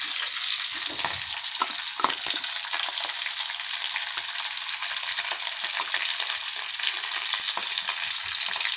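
Ginger frying in hot oil in a pan, a loud, dense, steady sizzle close up with a few light stirring scrapes near the start and no voices.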